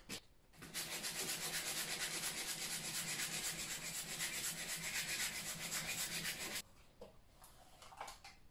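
Hand rubbing and sanding on an old fireplace makes a continuous, close, rhythmic scrubbing rasp for about six seconds, then stops, leaving a few faint scrapes and knocks.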